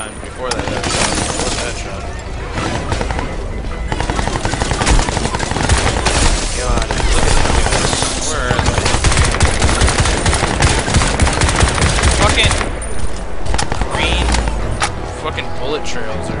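Rapid gunfire bursts and shots from the video game Crysis 2 run continuously and loudly, mixed with game effects, while a player talks over the action.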